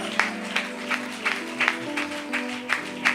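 A church congregation claps in a slow regular rhythm, about one clap every half second, soft and somewhat distant over a sustained low musical drone.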